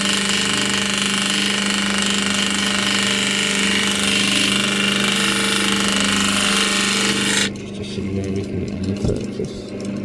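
An opal is rubbed on a grinding machine, a loud, constant mechanical drone and grinding hum that holds steady for most of the clip. It then drops away, leaving a softer uneven rumble.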